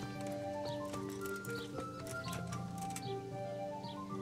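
Horse hooves clip-clop in the video game Kingdom Come: Deliverance, a steady patter of hoofbeats under layered in-game music, with no speech over it.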